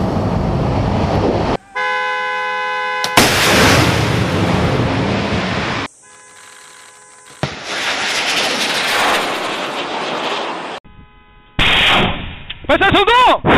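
A Marine Corps Spike missile launches, heard as loud, abrupt bursts of blast and roaring noise cut between sharp electronic tones and brief quiet gaps, with voices faintly present.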